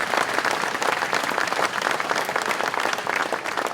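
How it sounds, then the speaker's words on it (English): A crowd applauds sponsors at the Brattleboro Retreat's 2015 Ride for Heroes charity event. The dense, steady clapping is fairly loud and continuous throughout, with faint murmuring mixed in. "Round of applause for the sponsors."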